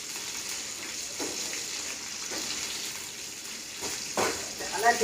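Green chilies stirred into a curry frying in a pan, with a steady sizzle and occasional scrape of the spoon, close and moderately loud with no talking.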